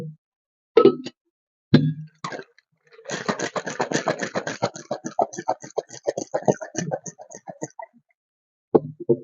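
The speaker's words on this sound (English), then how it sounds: "Shake all the ingredients properly." Green apple mocktail with kiwi crush shaken in a shaker, a few separate knocks, then a fast rattling run of ice and liquid beats that slows and stops, loud and close.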